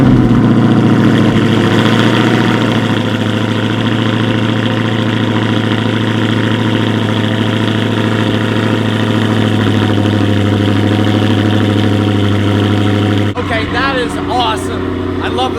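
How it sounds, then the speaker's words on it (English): A Dodge Charger Hellcat, close by, rumbles through a loud, steady cold-start idle with a deep, even drone. Near the end the tone shifts and voices begin talking over the engine. "I love the sound of the Hellcat."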